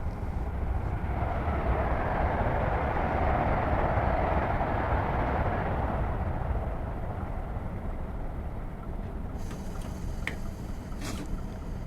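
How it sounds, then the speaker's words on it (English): Simulated train rumbling nearer in Train Sim World 2021, a low continuous roar building then easing, with faint clicks and tones toward the end and no talk. "I can hear a train."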